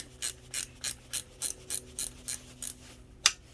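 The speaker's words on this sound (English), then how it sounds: "Ratchet wrenches work excellent, by the way." A ratchet wrench clicks back and forth in a quick, steady rhythm of about eleven close, crisp bursts, with one final louder click.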